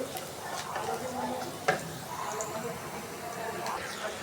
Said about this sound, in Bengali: এই যে চাউলটা ভেজে নিতেছি ভালোভাবে